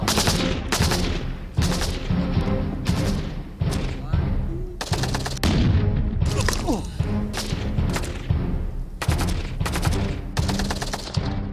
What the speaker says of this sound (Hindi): चारों तरफ से इस वक्त हमें फायरिंग की आवाज़ आ रही है